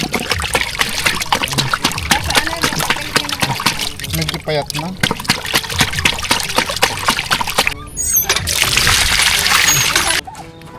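Water trickling and splashing in a tub as sea urchins are washed by hand, with intermittent sloshing and pouring beneath close, ongoing conversation.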